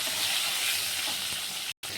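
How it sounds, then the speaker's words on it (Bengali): Potatoes sprinkled with salt and turmeric fry in hot oil for a fish curry, giving a steady close sizzle and hiss that cuts out briefly near the end. "এবার এটাকে লাল লাল করে ভাজবো"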